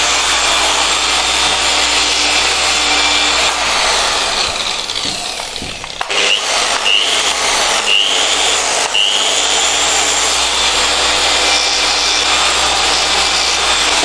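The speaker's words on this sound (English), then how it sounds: "Let the machine spin." A polishing machine spins a disc loaded with compound against stainless steel, a loud continuous whirring grind with a brief dip and shifts in pitch midway as the disc bears on the metal.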